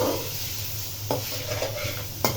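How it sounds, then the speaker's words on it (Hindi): Fried rice with egg, chicken and boiled peas stirred in a hot pan, a steady sizzle with a few sharp clinks and scrapes of the spatula against the pan, close and without talk. "ये जी सारी चीज़ें मिक्स हो रही हैं।"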